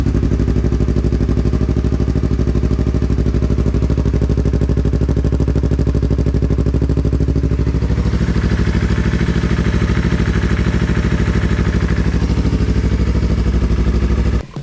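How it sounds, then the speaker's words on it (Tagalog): A Yamaha MT-03 motorcycle idles steadily as its engine warms up to circulate fresh oil, a close, even, low mechanical putter that runs unchanged for the whole stretch before cutting off abruptly at the end. "Papainitan na natin yung makina para magsa-circulate yung oil niya."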